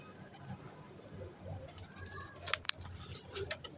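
Star pigeons coo softly in low, murmuring calls against steady background noise, with a few faint clicks and flutters toward the end.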